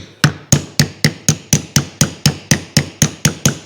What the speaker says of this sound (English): And I'm just going to use a wooden mallet.